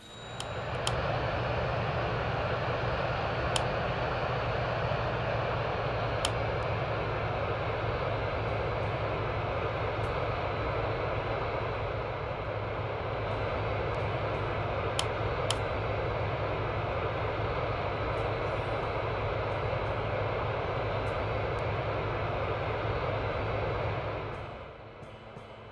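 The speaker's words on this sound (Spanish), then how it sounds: "Una vez que solicitamos el encendido de los motores, procedemos a encenderlos uno por uno" Jet engines of a British Airways Airbus A380 spool up at JFK before taxi, a loud steady roar with a low drone and high whine held for the whole stretch, with a few faint beeps, then easing off at the end.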